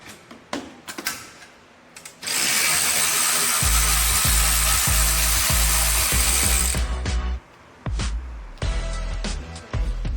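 Ratchet working on bolts of a 2015 Lamborghini Huracan V10 engine during an engine swap: a long burst of rapid clicking, close and loud, with a few sharp metallic taps before and after.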